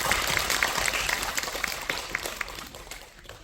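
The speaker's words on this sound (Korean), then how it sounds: "다시 한번 힘찬 박수 보내주시기 바랍니다" Audience at a regional literary arts exchange event in Korea claps warmly, a moderately loud patter of many hands that slowly fades out.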